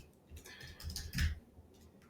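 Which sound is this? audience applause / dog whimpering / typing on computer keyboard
typing on computer keyboard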